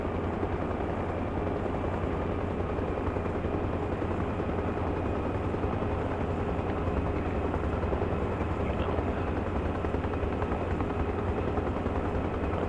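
An aircraft takes off in the military video game Arma Reforger, heard as a loud, unbroken engine and rotor roar that holds steady from start to finish with no voices over it.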